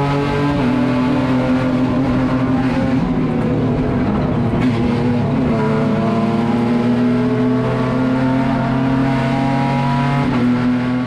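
Race cars accelerate away from the start at the Tarumã circuit, a loud continuous chorus of revving engines with rising and shifting pitches as the pack pulls away, no voices.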